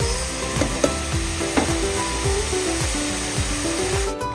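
Garlic, onion and ginger sizzle steadily in a hot pan while being sautéed for ginisang monggo, a continuous close frying hiss broken by a few sharp stirring scrapes and spatula knocks, with no talking.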